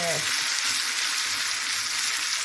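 Onion and pepper fry in a large pan with a steady, dense sizzle that stays close and constant throughout.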